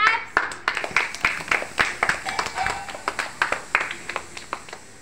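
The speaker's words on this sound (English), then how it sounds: "Claps." Young nursery and kindergarten children clap their hands in a classroom maths activity, a steady run of roughly twenty quick, close claps with slightly uneven timing, fairly loud throughout.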